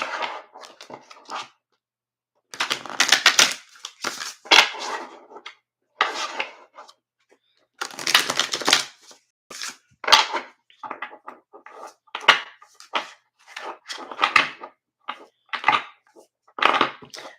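Tarot cards are shuffled up close in repeated bursts of rapid riffling and slapping, with short pauses between handfuls.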